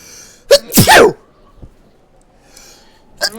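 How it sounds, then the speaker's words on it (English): A person sneezes loudly up close, a sharp intake followed by the burst and a second quick gasp, while the video game Metro Exodus plays, with a brief faint sound near the end. "I have sneezed twice."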